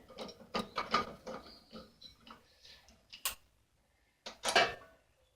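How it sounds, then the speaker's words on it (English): A ratchet clicking as it turns bolts on the air box of a Poulan 900 rototiller, close, rapid ticking strokes in bursts with brief pauses and a final quick run of clicks. "Use a wrench, nut driver, ratchet, whatever you want."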